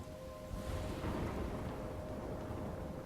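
A thunderstorm in the video game Life is Strange gives off a continuous, fairly loud low rumble with broadband storm noise and a faint sustained tone beneath it. No one speaks.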